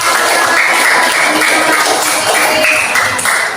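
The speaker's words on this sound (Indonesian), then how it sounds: "Ya, tepuk tangan untuk kelompok" Classroom group applauding a discussion group after its presentation, a steady continuous patter of many hands clapping at close range throughout, without pauses.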